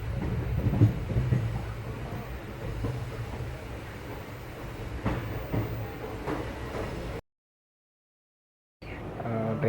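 Steady rumbling train noise in Mumbai at night, with a broad rushing hiss, continuous for several seconds, cutting out briefly near the end before resuming.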